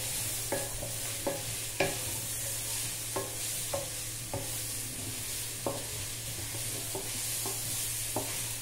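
Drumsticks frying with onions in a pan for an egg curry, with a steady sizzle throughout and repeated scraping stirs at an irregular beat. No one speaks.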